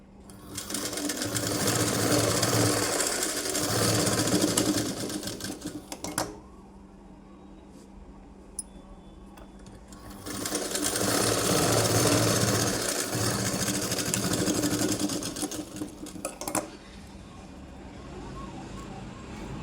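A sewing machine stitches front dots onto cloth in two steady, rapid runs of about six seconds each, separated by a quiet pause with faint handling noises.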